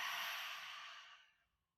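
A single long exhale during a yoga hip stretch, an airy breath that starts fairly strong and tapers off to silence over about a second and a half, close and soft.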